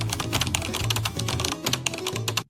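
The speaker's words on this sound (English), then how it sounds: "you also are about to hear the typing sound, I think." Keyboard typing sound effect added in a video edit: a dense, steady run of quick key clicks lasting a couple of seconds, close and crisp, then stopping abruptly.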